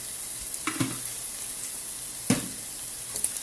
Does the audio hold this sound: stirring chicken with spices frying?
yes